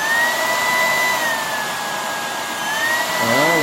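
An Uwant V100 cordless vacuum cleaner with its base runs close by, a loud, steady motor whine with a slight pitch drift that wavers near the end. No one speaks.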